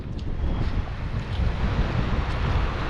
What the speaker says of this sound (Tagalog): sana po hindi lumakas ang alon